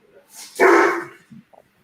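A large dog barks in one loud, close burst, followed by a couple of softer short sounds.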